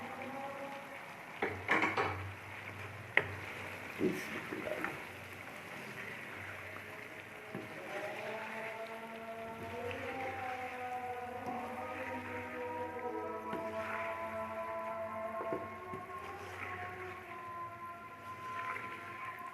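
Kachnar buds stirred into chicken in a cooking pot, with a few early clinks and scrapes of a spoon against the metal, then a steady low sizzle and bubbling continuing to the end.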